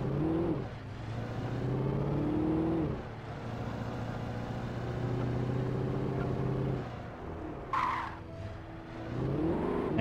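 A car in the video game Alan Wake revs loudly and continuously up close, with engine tones swelling and falling, tyres squealing and a short sharp crack late on.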